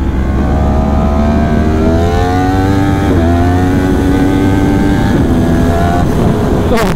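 Yamaha R1M superbike racing on the Mandalika circuit, a loud, close, high-pitched engine wail that climbs through the revs in repeated rising sweeps with brief dips at gear changes, continuous and alone.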